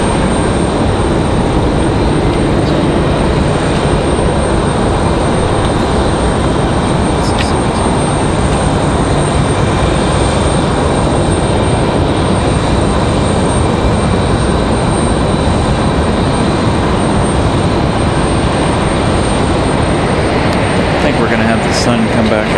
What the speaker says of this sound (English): there we go, the 787 Dreamliner back to Paris